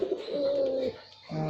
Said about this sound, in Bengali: কবুতর দেখাবো আপনাদের আজকে।